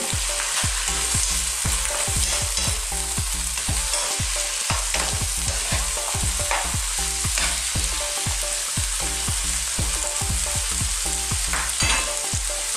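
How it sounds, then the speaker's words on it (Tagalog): Long beans and chicken for adobong sitaw stirred in a hot pan, giving a loud continuous sizzle punctuated by rapid, rhythmic scraping and clacking strokes of the utensil against the pan. "Ngayon po, isusunod na natin ang sitaw. Haluin po natin."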